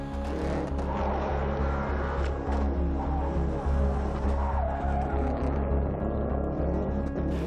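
Subaru rally cars, Colin McRae era machines back on the roads of North Wales, give a steady loud engine roar with a deep low drone, tyre noise and skidding throughout, close by and continuous.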